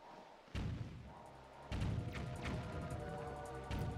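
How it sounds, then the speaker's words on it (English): Bombs collide midair in Zelda: The Wind Waker HD, giving several deep, booming thuds spaced about a second apart over a low game background. "our bombs hit each other in midair"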